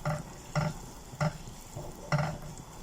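A pot of vegetable soup with potato, zucchini and green beans being stirred, with four distinct, evenly spaced scraping strokes over a soft background simmer.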